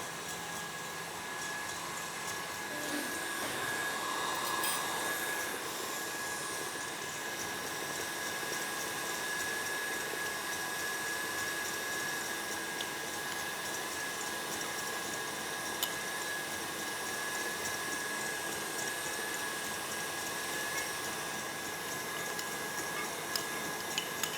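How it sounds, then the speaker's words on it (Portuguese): An electric hand mixer whips egg whites to soft peaks for brigadeiro cupcakes, a continuous, even motor whir with a faint high tone, running steadily and close for the whole stretch without talk. "Agora sim, já temos as claras batidas em neve"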